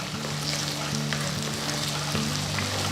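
Potatoes sautéing in a pan over a medium flame, a steady low sizzle with faint crackles running throughout, close and even, with a soft continuous hum underneath and no voices.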